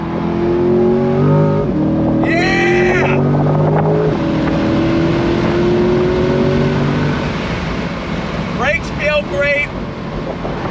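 A 2022 Chevrolet C8 Corvette sports car accelerates hard, its engine note rising through the revs and then dropping sharply on downshifts, with loud, close exhaust sound throughout and brief blips near the end.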